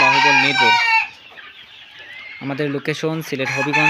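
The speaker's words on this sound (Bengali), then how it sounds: "অনেকগুলো মুরগি আছে এখানে" Chickens cluck in a busy flock, dense overlapping calls close by, briefly dropping off before the clucking picks back up.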